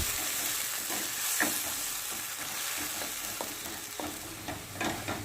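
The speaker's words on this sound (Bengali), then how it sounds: "পেঁয়াজ আর টমেটোটা একটু ভাজা ভাজা হয়ে গেছে।" Ground onion and tomato paste fries in a pan for a prawn malai curry, giving a steady close sizzle with repeated scraping stirs and soft clicks throughout, no voices.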